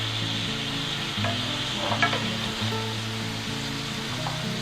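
Eggplant and other vegetables sizzle in hot olive oil in a pan, a steady close frying hiss that runs throughout over a soft rhythmic backing, with no voices.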